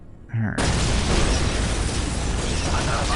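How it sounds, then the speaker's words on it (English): A turret firing in the Warhammer Dawn of War Dark Crusade strategy game, a loud dense burst of explosive noise that erupts suddenly after a brief quieter moment and roars on without a break. "this turret is just totally messing us up here"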